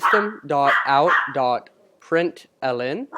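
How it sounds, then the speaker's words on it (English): A pet dog barks and yips intermittently in the background of a home setting while someone talks steadily over it, the barking partly masked by his voice. "Sorry about my dog barking in the background."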